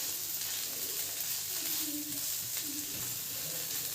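A pan of brinjal and fish frying gives off a continuous, even sizzling hiss, close and moderately loud, with no talking.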